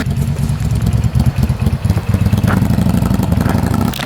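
A motorcycle engine runs loud and close with a steady, rumbling drone as the sold bike rides off, with no talking.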